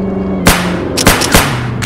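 Gunfire in a shooter video game: a handful of sharp, loud shots fired in an irregular burst, with a couple of quick follow-ups over a steady game hum.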